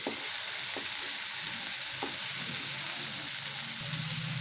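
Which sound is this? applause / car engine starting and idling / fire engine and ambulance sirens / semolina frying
semolina frying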